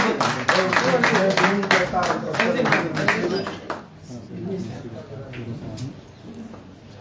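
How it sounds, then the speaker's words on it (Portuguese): An audience applauds at a Guinea-Bissau Football Federation recognition event, with dense clapping for about four seconds before it fades into murmured talk and scattered claps. "Palmas."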